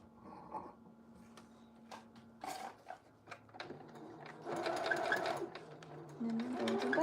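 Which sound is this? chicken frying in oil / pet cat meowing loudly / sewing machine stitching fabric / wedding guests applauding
sewing machine stitching fabric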